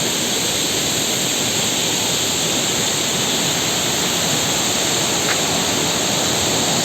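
Changey waterfall near Kolakham roars with a steady, loud, unbroken rush of falling water throughout, with no voices over it.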